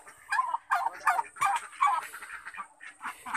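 Peking ducks on a farm quack in a rapid, close series of nasal calls, several birds overlapping in short bursts over a few seconds, with no talking.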